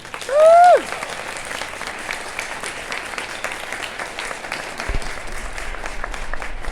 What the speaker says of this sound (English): Wow, round of applause for that.